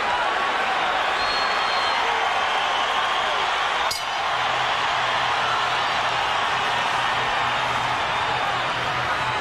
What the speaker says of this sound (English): Crowd cheers as we get past the midpoint of the fight.